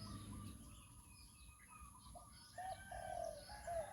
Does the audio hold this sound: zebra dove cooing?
yes